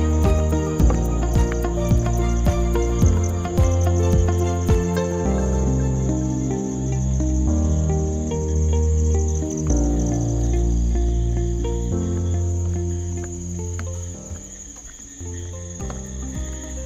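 Crickets chirp steadily through a cool, misty night at a nature resort near Lonavala, a dense high-pitched trill running continuously over low musical tones and ambient hum.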